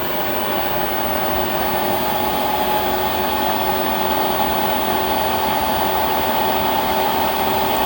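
A diesel heater's fan runs steady and close, a constant whirring blower drone with a faint tonal hum throughout, no pauses and no voices.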